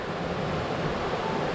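Fast, rain-swollen stream running white along the Bear Hair Trail in Georgia's Vogel State Park after snow, a steady broadband roar of rushing water with no breaks.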